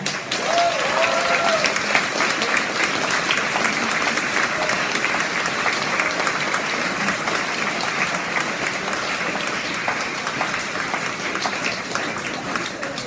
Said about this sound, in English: Give her one more big round of applause.